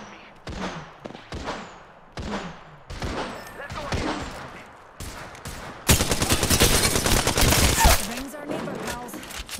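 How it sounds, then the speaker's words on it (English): Rapid bursts of gunfire ring out in a ranked shooter match, first in short separated volleys and then a long sustained automatic stream, loud and close with some voice chatter mixed in. "Taking fire! Shots fired."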